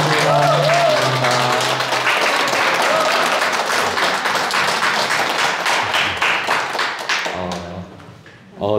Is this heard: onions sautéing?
no